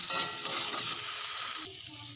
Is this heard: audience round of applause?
no